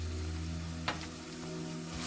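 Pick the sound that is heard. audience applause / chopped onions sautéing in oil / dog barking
chopped onions sautéing in oil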